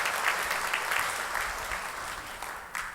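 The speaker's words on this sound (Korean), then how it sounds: "우리 박수로 한번 환영하십시다" A church congregation claps to welcome returning and newly registered members during a Sunday worship service, a steady wash of many hands at moderate level that fades slightly toward the end, with no voices over it.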